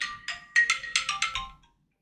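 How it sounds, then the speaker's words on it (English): A phone alarm rings with a bright, repeating electronic melody of about eight quick tonal bursts over roughly a second and a half. It is close and clear with no talk, then stops abruptly. "That's my nightly alarm to remind me to do my calc daily quiz garbage."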